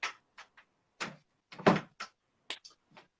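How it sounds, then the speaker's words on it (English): A house door is pushed open by a dog, giving a string of short knocks, rattles and thuds at uneven intervals, fairly quiet and with no talk over them. "The dog walked in, opened the door."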